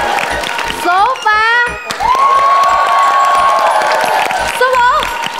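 A studio audience on a Vietnamese TV dating game show cheers and whoops loudly and steadily, with rising and falling shouted tones on top, filling the whole stretch without a break.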